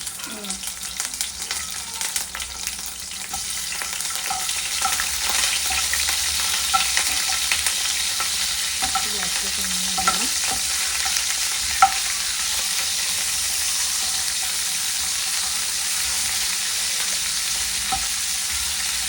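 Cauliflower seasoned with salt and pepper frying in a pan, a steady close sizzle with occasional scraping and tapping of a utensil, even and moderately loud, with no talking.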